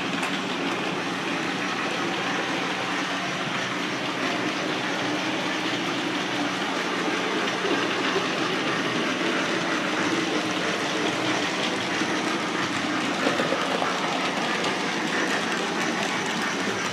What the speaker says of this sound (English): I've got mine in the rear brake van, as you can hear. It's quite loud.